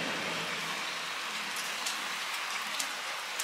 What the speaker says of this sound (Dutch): En het is nu nog wel aan het regenen